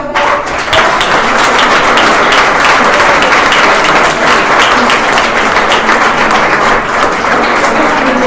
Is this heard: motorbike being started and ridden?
no